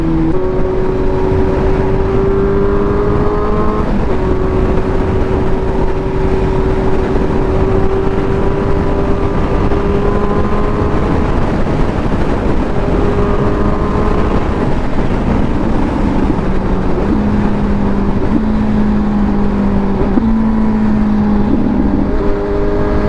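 Motorcycle engine on the road, steady loud drone with pitch steps as it revs between gear changes while rev-matching, heavy wind rush throughout.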